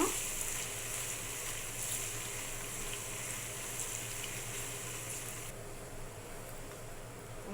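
Garlic paste sizzling steadily in hot oil for a sweet, sour and spicy olive pickle, a continuous close frying hiss with no voices, its bright crackle easing slightly toward the end.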